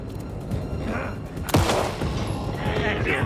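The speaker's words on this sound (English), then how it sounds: "Shots at me." Gunshots in Alan Wake 2 ring out amid tense game sound, with a sharp heavy blast midway followed by echoing rumble, while a player speaks over the action.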